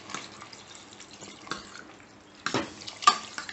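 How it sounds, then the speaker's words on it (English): Second coconut milk pours into a vegetable stew in a pot, with soft liquid splashes and a few stirring clinks, quiet and close, the louder splashes coming toward the end. "I am going to add the second coconut milk"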